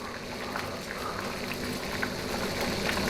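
Water boils hard in a pot, a continuous close bubbling and hissing that stays steady throughout without any talking.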